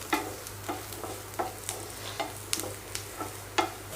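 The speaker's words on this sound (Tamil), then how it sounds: "அந்த மஷ்ரூம் அதிலே வதக்கிக்கணும்" Chopped mushrooms sauté in a pan with a soft sizzle, stirred in an even rhythm of light scrapes roughly twice a second, quiet and close, with no speech.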